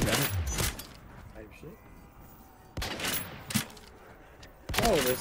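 Bursts of gunfire ring out in Black Ops 3 modded zombies mode, several short loud volleys scattered across the moment, with voices talking and reacting in between.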